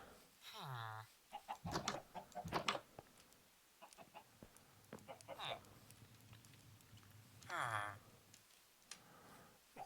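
Chickens in Minecraft cluck and squawk in a few short, distinct bursts, interspersed with clicks, while a person talks quietly between the calls.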